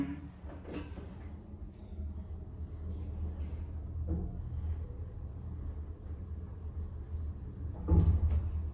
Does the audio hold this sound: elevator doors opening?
yes